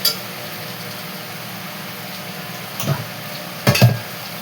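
Fish frying in a pan, a steady low sizzle throughout with a couple of sharper clatters and pops near the end as pieces are added or moved.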